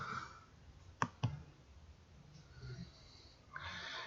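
A computer mouse clicks twice in quick succession while working in an Excel spreadsheet, two sharp, quiet clicks over a faint background hiss.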